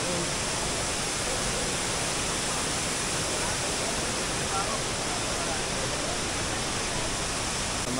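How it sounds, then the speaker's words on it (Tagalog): Vera Falls in Malinao, Albay, Bicol, a waterfall heard as a constant, dense rushing roar that fills the whole stretch without letup. "Ang Vera Falls sa Malinaw"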